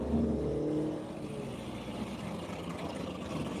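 A race car at Hedge Hollow passes on the track, its engine note falling away into a distant steady rumble and road noise.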